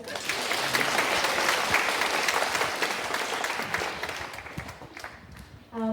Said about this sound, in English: We've got one more round of applause.